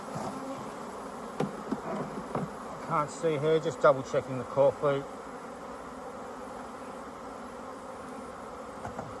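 Honeybees hum softly and steadily around an open hive during an inspection, a faint continuous drone under a brief passage of quiet speech.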